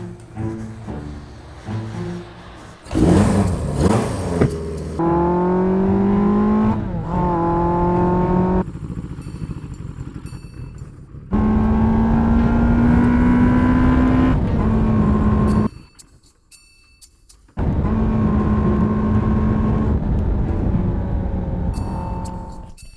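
An old motorcycle engine revs close and loud in repeated bursts, its pitch climbing and dropping between throttle blips, with brief quiet gaps between runs.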